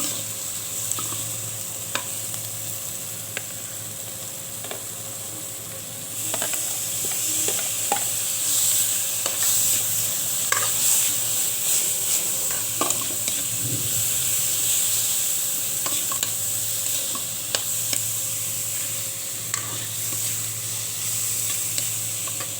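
Onions, garlic and ginger sauté in a pan for chicken binakol, a steady close sizzle with scattered stirring scrapes and crackles that grows a little louder partway through, with no talking.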